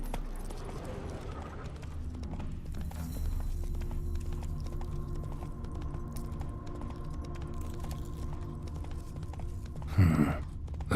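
A horse gallops in The Witcher 3, its hooves beating a rhythmic clip-clop under a steady outdoor ambience, with a short louder burst near the end.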